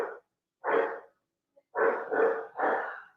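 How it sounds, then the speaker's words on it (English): A dog barks in the background, five loud, deep barks in two bursts with short silences between, no talk. "the dog barking"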